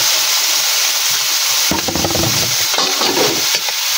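Tuway clams go into a hot pan of adobo and are stirred, loud rattling and scraping over a constant hiss of frying.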